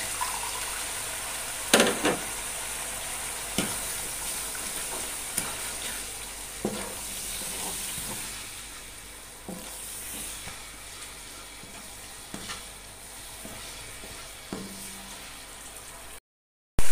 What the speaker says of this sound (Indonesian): Ini juga air asamnya kita masukkan ya.